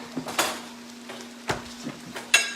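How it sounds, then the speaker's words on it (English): A knife chops a pepper on a board, a handful of sharp, irregular taps spaced a moment apart, close and clear, against a faint steady hum in a kitchen. "I am chopping the rest of my pepper"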